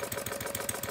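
A small engine running fast at about three-quarter throttle, its steady rapid pulsing buzz close and continuous throughout.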